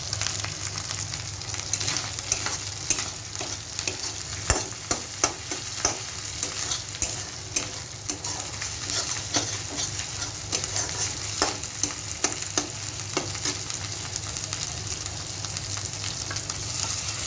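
Cumin, green chilli and ginger paste fry in hot oil for a fish curry with a steady, close sizzle, broken by frequent scraping stirs and no talking.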